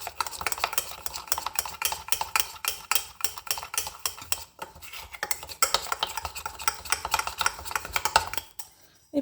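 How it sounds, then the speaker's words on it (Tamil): Instant Nescafe coffee powder and sugar are beaten by hand in a cup, giving fast, steady scraping strokes up close. A brief pause breaks the rhythm midway before the beating stops near the end. "இதை நல்லா நம்மளால் எவ்வளோ முடியுமோ அவ்வளோ பீட் பண்ணணும்"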